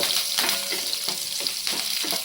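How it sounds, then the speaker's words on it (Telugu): Curry leaves fry in hot oil, giving a steady close crackling sizzle with small bursts of spattering, heard alone. "కరివేపాకు కూడా కొంచెం వేగుతుంది"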